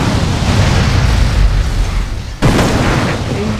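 A weapon fires in modded GTA San Andreas, fitted with a working weapon flashlight. It sounds as a loud, dense, continuous roar with rumbling blasts, broken by a short dip and then a sharp fresh burst.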